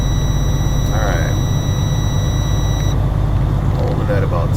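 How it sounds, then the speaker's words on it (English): A truck cab's low air pressure warning buzzer sounds as a steady, high electronic tone for about three seconds, then cuts out, over a constant low engine idle with a person speaking nearby. "See, now the buzzer has gone off."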